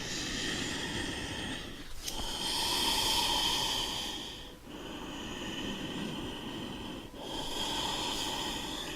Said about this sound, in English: Right leg, inhale for 3 breaths.